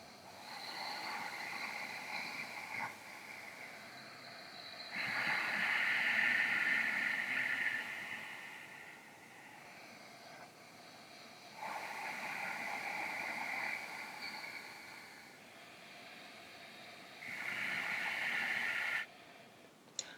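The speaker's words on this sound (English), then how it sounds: "It's a very gentle rasping sound at the back of your throat." Gentle rasping breaths draw through the nose with the throat slightly closed, like soft snoring, three slow cycles of quiet breathy hiss rising and falling, close and otherwise silent.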